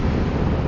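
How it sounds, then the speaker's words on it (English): Strong wind buffeting a microphone outdoors beside a small lake on a mountain road drive in Morocco, a loud, continuous low rumble with no talk. "It's very windy now."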